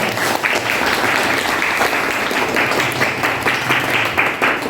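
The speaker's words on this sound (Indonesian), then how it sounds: "Tepuk tangan sekali lagi buat kita semuanya" Classroom students applauding together in a loud, dense burst of clapping that stays strong and steady throughout, with individual claps popping out of the wash.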